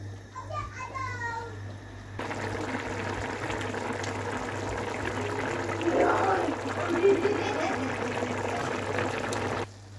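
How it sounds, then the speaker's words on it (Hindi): Water boils in a cooking pot for rice, a steady rushing bubble over a constant low electrical hum, with a voice briefly audible near the start. "अभी पानी अच्छी तरह से बॉईल हो गया है।"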